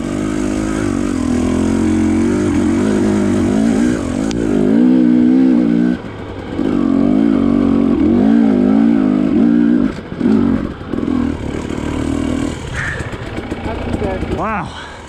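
A Beta Xtrainer dirt bike engine revs and bogs on a rough Colorado single-track trail, close and loud, its pitch rising and dropping in repeated bursts with short lulls, with a voice heard near the end.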